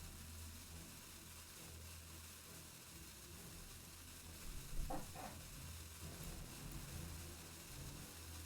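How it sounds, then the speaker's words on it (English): A sizzle sound effect from the video game Hearthstone: a faint, steady hiss and crackle, low in the mix, with a couple of brief brighter pops partway through. "Hear that sizzle?"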